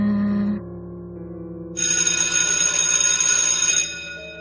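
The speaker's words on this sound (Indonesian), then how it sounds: "Bunyi lonceng sekolahku yang lama dan memekakkan telinga" A loud, continuous school bell blares for a couple of seconds after a brief tone fades, then cuts off abruptly.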